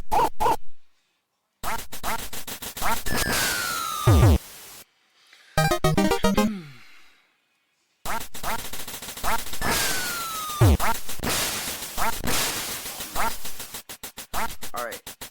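Ducks quack and squawk in the NES Duck Hunt video game, in loud bursts amid gunshot effects, falling whistles and short jingles, separated by brief silent gaps.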